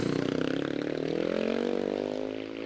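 A 638cc KTM motorcycle racing at the Prescott hill climb passes close by, its engine note rising and revving up, then fading slightly as it pulls away.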